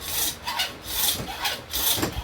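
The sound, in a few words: big hand hacksaw cutting whitetail deer bone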